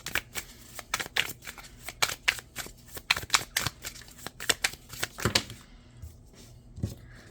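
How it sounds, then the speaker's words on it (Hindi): A new tarot deck being shuffled by hand, with rapid riffling card flicks in quick bursts and a few cards slipping and dropping, close and fairly loud with no talking. "ये न्यू कार्ड है तो थोड़े से ये गिर रहे हैं"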